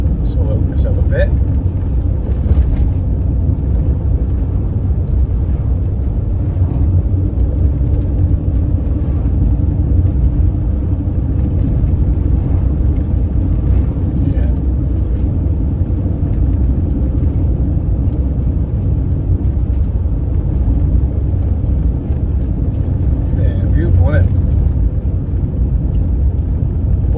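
A camper van engine drones steadily as it accelerates along a road in Wiltshire, a constant low rumble heard from inside the cab for a long stretch, with someone talking over it at times.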